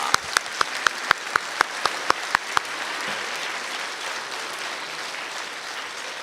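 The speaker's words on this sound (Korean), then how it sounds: "새해를 열어주신 하나님께 박수로 영광 올립니다." A church congregation claps together at a Korean New Year's Eve service, starting with a run of about ten sharp, evenly spaced claps that blend into sustained applause from many hands, filling the hall without voices.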